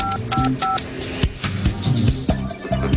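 Telephone keypad tones from an office phone as a code is punched in: a quick run of short, clean dual-tone beeps in a fairly steady rhythm over low background noise.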